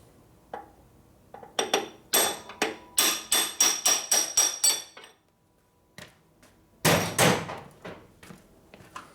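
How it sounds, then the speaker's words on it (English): Metal hammer blows ring out against a piece of steel bar stock in a machine shop, a rapid series of sharp clanging strikes, a pause, then a few more loud hits. "One piece of bar stock to beat on with hammer."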